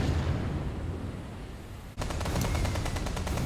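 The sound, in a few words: naval guns and anti-aircraft fire in Ultimate Admiral: Dreadnoughts video game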